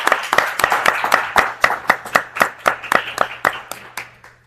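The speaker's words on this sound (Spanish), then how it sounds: "Me gustaría arrancar con un aplauso para todos" A smallish audience at an evening talk event claps, the individual claps distinct and fairly close, loud and brisk at first, then thinning out and fading over a few seconds.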